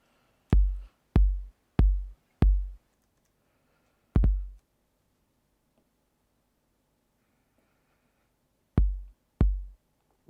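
An 808 drum machine plays a four-on-the-floor beat at about 95 BPM: four evenly spaced, deep booming kick hits, a lone hit after a pause, then two more after a longer gap, each decaying cleanly into near silence.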